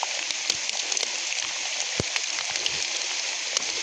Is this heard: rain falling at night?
yes